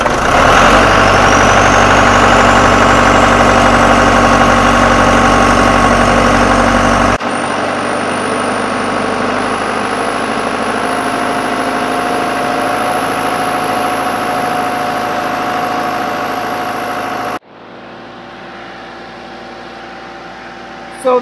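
A farm tractor idles with its PTO engaged, driving an irrigation pivot setup, a loud steady mechanical drone with a whine that shifts partway through before cutting off sharply near the end.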